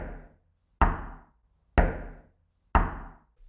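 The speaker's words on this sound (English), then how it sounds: "The same 5 knocks booming on the front door." Heavy booming knocks on a cabin's wooden front door at midnight, about four evenly spaced thuds roughly a second apart, each ringing out briefly into silence.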